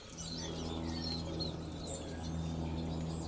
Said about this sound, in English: Goldfinches, you can hear them singing.